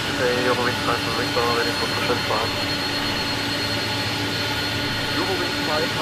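An Airbus A300-600F freighter in Microsoft Flight Simulator 2020 has its engine 1 spooling up, a steady loud jet roar and whine that runs the whole time, with a voice talking over it early on.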